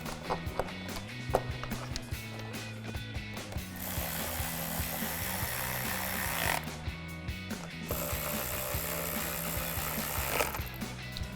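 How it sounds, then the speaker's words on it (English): Ratcheting tool buzzing in repeated short bursts as 10mm bolts are driven into the engine cover of a Jeep Wrangler JL with a 2.0L turbo, steady and close with brief pauses between runs. "Put our 10mm bolts back in."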